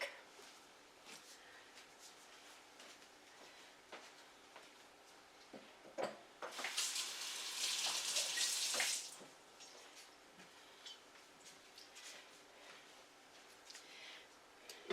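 Water from a kitchen tap runs into a sink in a steady, fairly close hiss for a few seconds, rising and stopping amid faint clatter of kitchen handling.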